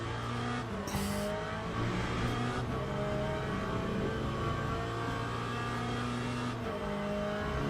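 Corvette race car in Le Mans Ultimate at Portimao: a loud, close engine drone with rising and shifting revs as the throttle opens, steady tonal whine throughout, no voices.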